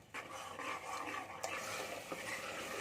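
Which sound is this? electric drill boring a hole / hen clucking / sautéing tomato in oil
sautéing tomato in oil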